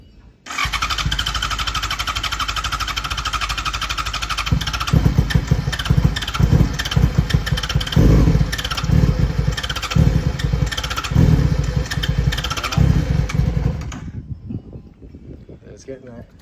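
A 2004 Yamaha R6 motorcycle engine cranks, catches and runs loud and close, with repeated throttle blips swelling the revs before it cuts out, leaving a quieter tail where a voice is faintly heard.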